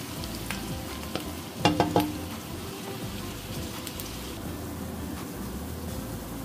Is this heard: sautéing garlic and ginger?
yes